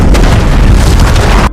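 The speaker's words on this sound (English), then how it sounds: "The city is covered by an explosion." A movie explosion as a city is bombarded: a loud, continuous booming roar with heavy low rumble that fills the whole moment and holds steady to the end.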